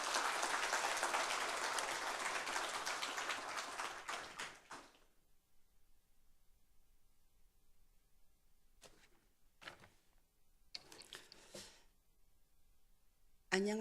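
A church congregation applauds to welcome a speaker, dense clapping for about five seconds that cuts off into near silence, followed by a few brief soft knocks and shuffles.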